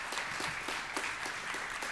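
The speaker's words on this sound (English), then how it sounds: "So, applause, Jürgen, thank you." Conference audience applause at a Bricsys 2018 event, a dense, steady burst of many hands clapping together, close and full, lasting only a couple of seconds with no talking over it.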